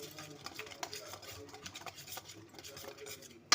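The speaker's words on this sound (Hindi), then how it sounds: "अभी हम इसे फेंट लेंगे, अच्छी तरह से मिक्स कर लेंगे।" Chicken marinade with oil and ghee is whisked and mixed in a bowl, a quiet, close run of quick rubbing and scraping strokes with a sharp clatter at the end.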